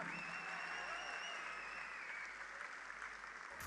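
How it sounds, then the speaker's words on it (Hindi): An audience applauds in a stadium, a dense, steady wash of clapping that continues at even loudness throughout, with faint tonal noise mixed in. "मैं आपकी जबरदस्त तालियों के बीच में इनवाइट करता हूँ कंपनी के founder and chairman doctor Ashok भा"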